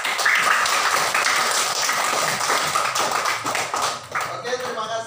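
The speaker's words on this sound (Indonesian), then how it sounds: "Kita tepuk tangan untuk kita semua." A classroom of students claps together after a group presentation, a busy, fairly loud patter of hands mixed with voices, easing off in the last second.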